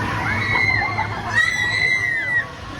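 High, piercing screams from a rider on the swings at the Valleyfair amusement park, two long sustained shrieks with a short break between, loud and close over a steady outdoor background.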